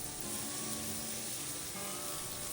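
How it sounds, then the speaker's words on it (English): Meat sizzles on a hot Kamado Joe grill cooking to medium rare, a dense steady hiss that stays loud and close, with no voices over it. "and just listen to that sizzle."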